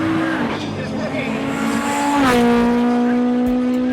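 Honda S2000 race car on a time attack lap at 2018 CSCS Round 5, its engine holding a strong harmonic note, then shifting and climbing again, with a brief tire squeal and a loud, close, continuous tone.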